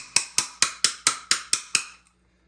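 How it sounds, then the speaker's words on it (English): A hammer driving a nail into a wooden wall stud beside an electrical outlet box: eight sharp, evenly spaced ringing blows in quick succession, close and loud, then silence. "So let's just hammer one in"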